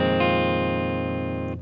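Guitar bar chord with fingers not pressing hard enough, one loud sustained strum ringing with a slight buzz before cutting off abruptly near the end.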